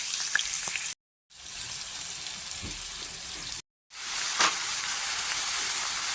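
Young jackfruit, lightly steamed beforehand, frying in a pan for an egg and jackfruit curry gives a steady close hiss and sizzle, broken twice by short silent gaps, with a few faint clinks.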